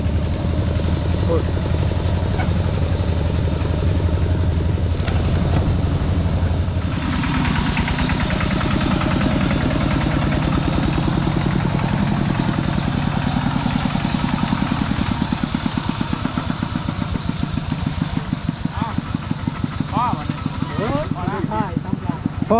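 An old vehicle engine runs steadily and close on a trip into the forest, a continuous rattling, throbbing drone with a knocking pulse throughout and a voice heard over it.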